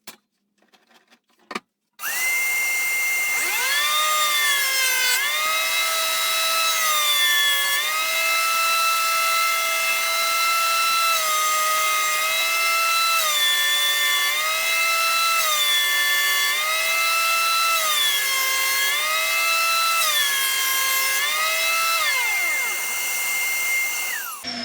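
After a brief clunk, a wood planer machines oak or ash timber for over twenty seconds while a dust extractor runs in a small workshop, a loud, steady, high whine with shifting pitch that winds down at the end.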